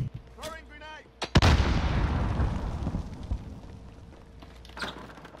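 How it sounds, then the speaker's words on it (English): A grenade explodes in the Warzone video game, a sudden heavy boom that rolls off into a long rumbling decay, with a brief voice just before and another sharp bang near the end. "Throwing grenade."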